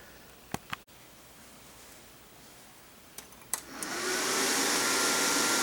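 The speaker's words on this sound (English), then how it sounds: "That's got a heck of a noisy fan." An eMachines desktop computer powers up: a few clicks, then a noisy cooling fan whooshes up into a loud, steady rushing drone close by.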